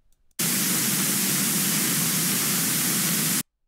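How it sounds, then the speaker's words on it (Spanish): White noise test signal, a loud steady broadband hiss that starts abruptly, holds evenly for about three seconds and cuts off sharply, with no talk. "Así suena el ruido blanco."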